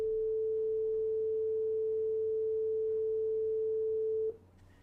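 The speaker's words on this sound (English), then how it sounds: "that is our first sine wave" A steady pure sine-wave tone generated with NumPy in Python and played through an audio player, holding one unwavering pitch for about four seconds before cutting off abruptly into quiet room noise.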